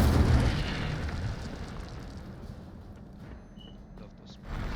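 A fire spell is cast in the video game Hogwarts Legacy, with a loud burst at the start that fades into a rumbling roar. A second swell rises near the end, amid other combat noise.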